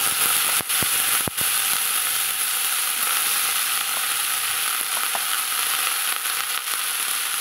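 Drumstick flowers stir-frying with turmeric in a hot pan give a loud, continuous sizzle, broken by a few sharp clicks and scrapes from stirring.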